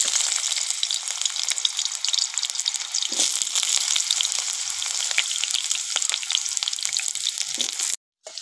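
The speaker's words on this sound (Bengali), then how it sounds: "প্রথমে আমি আলুটা ভেজে নেব।" Potato pieces fry in hot oil in a wok, giving a steady, close, bright sizzle with scattered crackles and light stirring clinks before an abrupt cut near the end.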